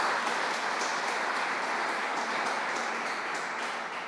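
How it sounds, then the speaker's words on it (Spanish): A church congregation claps together in a continuous, even wash of applause that holds steady for several seconds, with no voices rising above it. "Vamos a dar un aplauso a la presencia del Señor."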